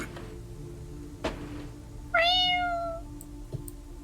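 A cat gives a single loud, drawn-out meow that rises and then tails off, close by, after a soft thump, with faint background hum and no talking.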